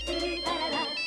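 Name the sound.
mobile phone ringtone ringing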